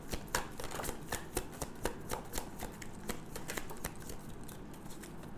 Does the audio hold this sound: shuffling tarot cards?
yes